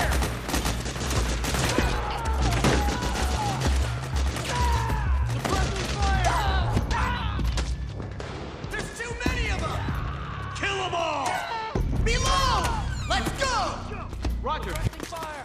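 Heavy gunfire rattles through a battle in Metal Gear Solid 4, with dense bursts, thumps and crashes running almost continuously, while radio-style voices talk over the fighting.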